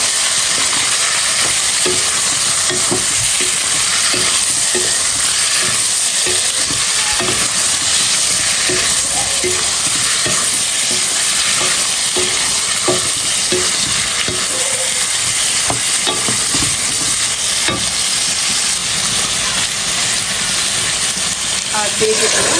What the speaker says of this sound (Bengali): তো এখন দিয়ে দেবো পেঁপেগুলো, সিদ্ধ করে রাখছিলাম যে পেঁপে, এটাকে কষাই নেব।